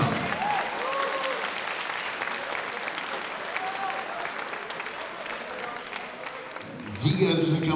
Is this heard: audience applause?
yes